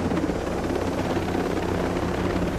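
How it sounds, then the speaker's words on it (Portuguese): A helicopter in the video game Tom Clancy's Breakpoint, heard from inside the cabin: a steady, dense rotor and engine drone with rapid rhythmic thumping, filling the clip without talk. "a gente tá dentro do helicóptero, esse helicóptero não dá pra ver"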